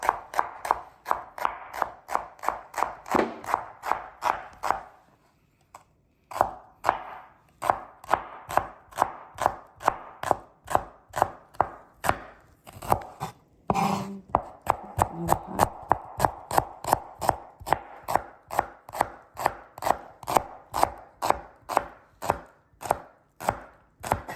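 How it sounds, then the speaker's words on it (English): Knife slicing steadily through beef on a cutting board set over a wet towel, a fast, even run of sharp close taps with one brief pause partway through and no talking. "I'm just gonna slice."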